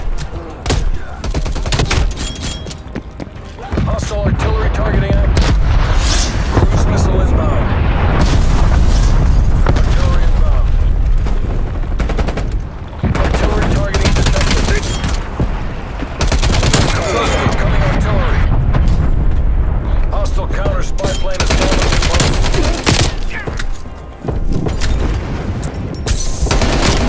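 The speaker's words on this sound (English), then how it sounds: "Hostile artillery targeting active." Heavy booming explosions and rattling gunfire from a hostile artillery strike in Call of Duty: Black Ops Cold War team deathmatch, loud and continuous for a long stretch with only brief lulls, under occasional talk.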